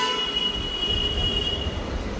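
A metro train runs through a Mumbai metro station with a steady rumble and a thin high wheel squeal that rings through most of the stretch, then fades, with no voices.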